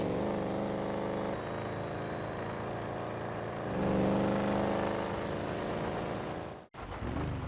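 Holden Commodore engine in GTA Online runs as a steady, loud drone that swells around the middle, then briefly cuts out near the end before resuming.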